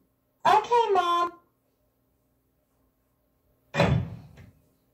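A house door slams shut once with a sharp, loud bang after an earlier stretch of a voice, then the room falls quiet.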